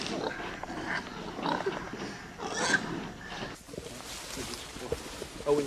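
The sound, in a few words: pigs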